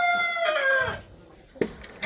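A Naked Neck hen among ducks and poultry in a yard gives a drawn-out, falling vocal call followed by a short sharp cluck, close and fairly loud, with no talk.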